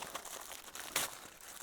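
Crinkling aluminium foil being pulled off nachos cooked on a Land Rover engine, a close, continuous crackle with one sharper crunchy burst in the middle.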